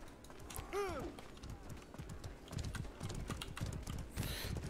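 Horses in the medieval combat game Mordhau gallop with rapid clip-clop hoofbeats and a whinny near the start, fairly faint under game noise and scattered clicks.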